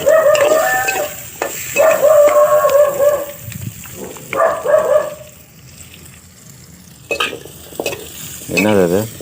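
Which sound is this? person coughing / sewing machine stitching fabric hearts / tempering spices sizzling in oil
tempering spices sizzling in oil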